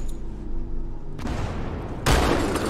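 Shotgun fire in the video game Halo 2: a steady low game hum gives way to a loud, broad burst, then a second, sharper blast near the end, with no talking.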